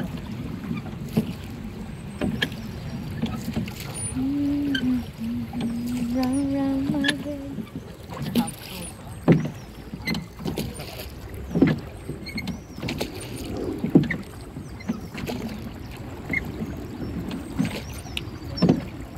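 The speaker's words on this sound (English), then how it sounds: "Maraming tao nagbo-boat dito guys." Rowing boats on the river at Warwick, England, with soft splashes and knocks of oars and hulls at irregular intervals, plus wind, a brief tonal squeak and a quiet outdoor background.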